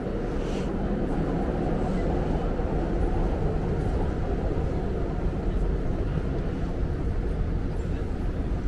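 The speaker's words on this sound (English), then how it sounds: "This is for this train going northbound." A northbound subway train at a station stop on a line starting at South Ferry gives off a loud, steady low rumble that fills the whole stretch without letting up.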